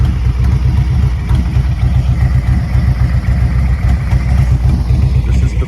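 A 2023 Harley-Davidson Road Glide ST with the factory 117 motor idling close by, a loud, deep, steady loping rumble with even pulsing beats throughout.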